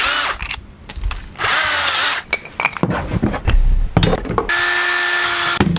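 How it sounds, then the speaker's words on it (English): Power drill boring a hole through wood during a chick brooder build, in several loud whirring bursts with pauses, some rising in pitch as the bit bites, plus ratcheting clicks and a steady high motor whine near the end. "I need to drill through this wood a hole this big"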